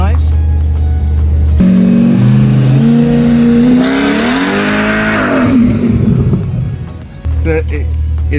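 A Chevrolet C8 Corvette E-Ray, running with a check engine light and a fault in its electric all-wheel drive, drives and accelerates, its engine note loud and rising as it revs up through the gears before settling back to idle.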